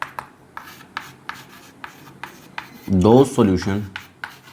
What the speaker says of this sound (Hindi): देखिए लिखता हूँ मैं यहाँ पे